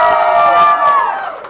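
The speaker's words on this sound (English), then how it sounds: "we're going to do the cheer between Mistake Me Not" Crowd at a Texas robot combat event cheering for the robot Blind Watermelon, a brief sustained loud roar of voices that tapers off toward the end.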